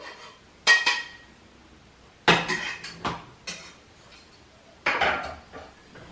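A spatula spreads melted butter in a crêpe pan, making several sharp metallic scrapes and clinks spaced irregularly over near silence.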